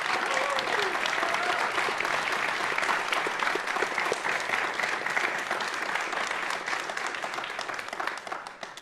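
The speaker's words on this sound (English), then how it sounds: "Please give a big round of applause." A large audience applauds steadily and loudly for several seconds, dense clapping that gradually tapers off at the end.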